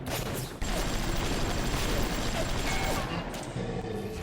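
Automated turret in BioShock firing rapid bursts amid dense gunfire and game noise, loud and continuous throughout, with a voice talking over it.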